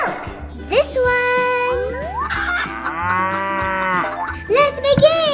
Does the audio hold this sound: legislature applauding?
no